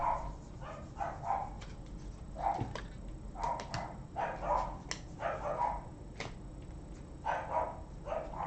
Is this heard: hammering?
no